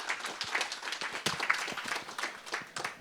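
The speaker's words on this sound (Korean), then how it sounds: "오늘 좋은 말씀을 해주신 박태호 원장님께 다시 한번 큰 박수 부탁드리겠습니다" An audience applauds after a lecture at an economic forum in Jeju, with a dense spread of scattered handclaps, fairly faint and continuous throughout.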